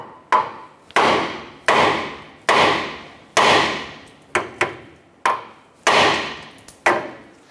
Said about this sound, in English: I'm gonna use a hammer and we're gonna strike our knuckle to go ahead and release our outer tie rod